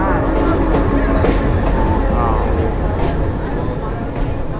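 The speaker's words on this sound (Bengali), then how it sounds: "এখানে আমাদের একটা ক্রসিং হয়ে গেল একটা ট্রেনের সঙ্গে" Passenger train rumbling past another train at a crossing near Arani railway station in Rajshahi, a loud close continuous roar of wheels and carriages with a voice talking over it.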